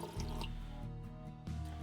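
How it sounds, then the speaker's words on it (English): A person takes a loud, slurping sip of tea close to the microphone, a short wet intake followed by a second brief slurp. "Take a loud sip of tea, my apologies."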